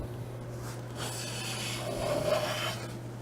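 Hand plane shaving a solid wood board, a soft close rasping rub of the blade across the grain in a single steady pass, gentle and alone without talk.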